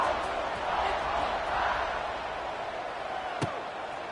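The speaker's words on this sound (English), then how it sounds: "this crowd is feeling themselves after that last drive" A stadium crowd at a Georgia Southern college football game keeps up a steady, distant roar of cheering, with one sharp thud near the end.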